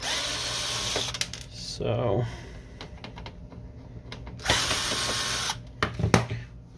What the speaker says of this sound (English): we'll just remove the screws in the back that will release the panels right and left